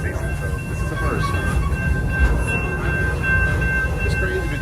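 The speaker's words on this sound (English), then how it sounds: "this is the first time I've ridden a train and it only looped to Nairobi Station" The Serengeti Express ride train at Busch Gardens Tampa Bay rumbles along in a steady, close, continuous roll with a faint high whine, and indistinct voices mix in.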